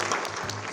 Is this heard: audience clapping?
yes